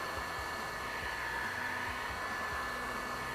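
A heat gun blows a steady, even hiss and whir while warming a small section of a car floor mat, a constant close airflow drone with no voices.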